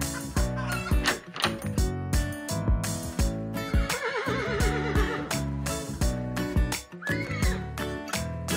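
Horses neighing and whinnying outdoors on a farm, with several wavering calls rising over a busy, music-like backdrop throughout.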